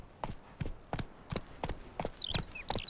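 Horse Roach trotting in The Witcher 3, a steady series of close, crisp hoof clip-clops in an even rhythm, with a faint higher chirping sound near the end.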